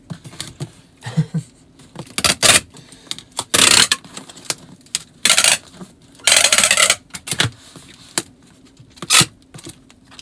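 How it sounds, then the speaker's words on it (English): Packing tape gun sealing a shipping box during eBay packing, with several loud rasping tape pulls and scrapes spread across the clip between quieter handling clatter. "Everybody get ready for the tape gun."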